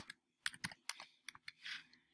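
Computer keyboard typing while entering course details into a document: a handful of close, crisp key clicks in uneven bursts, with short pauses between them and no talking.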